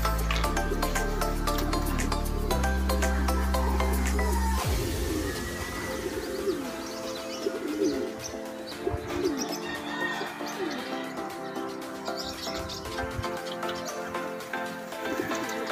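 Pigeons coo during a pigeon training session in Pililla, Rizal, soft repeated calls with dripping, liquid-like sounds, continuing for a long stretch after a brief tonal intro.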